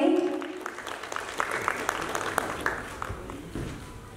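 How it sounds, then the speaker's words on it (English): An audience at a film promotional event claps in a dense, continuous wash of applause at moderate loudness, with crowd murmur underneath. "A huge round of applause, everybody."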